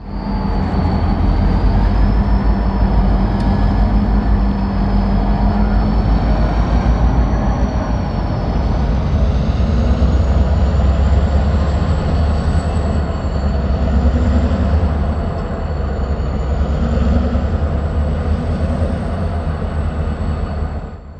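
Reading & Northern NRFF freight train running steadily nearby, a loud continuous low rumble of wheels and locomotive with a faint high wheel squeal rising and falling throughout, no voices.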